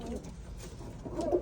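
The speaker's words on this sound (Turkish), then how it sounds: "Arkadaşlar bir kümes dolusu güvercin," Pigeons in a coop full of birds, low soft cooing murmurs running steadily throughout, fairly faint with a slightly louder coo near the end.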